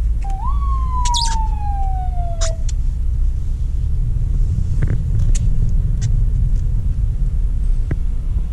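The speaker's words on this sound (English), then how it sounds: "just got passed by the ambulance there" An ambulance siren wails steadily from behind while riding in a 2019 Mercedes-AMG GT 63 S 4-Door on the road, loud over a constant low road and engine rumble, with a few sharp clicks and no talking.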